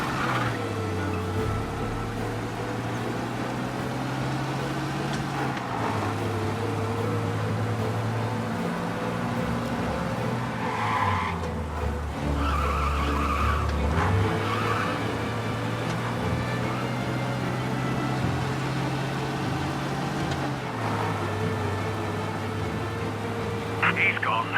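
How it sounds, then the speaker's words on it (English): In the video game Mafia: Definitive Edition, a car drives fast to escape the police, its engine droning and shifting steadily throughout under frequent talking. "You lose them by driving real fast and getting clear of them."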